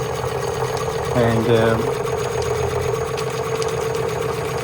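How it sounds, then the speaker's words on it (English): A Märklin 16051 live steam engine runs with a steady mechanical hum and rhythmic chuffing, joined briefly by a rising whine near the middle, while a person speaks over it. "It's a steam engine, not an air engine, it's a steam engine."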